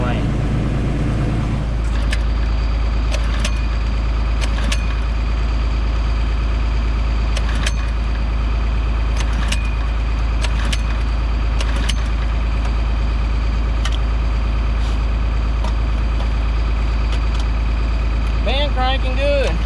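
A tractor engine idles steadily at close range while being warmed up before spring planting, a constant low drone with a brief rougher start at the beginning and scattered clicks and clatter over it.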